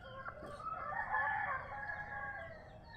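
Chickens and a rooster in a backyard poultry coop planted with fruit trees, a steady busy chorus of clucking with a crow rising through the middle, fairly close and continuous.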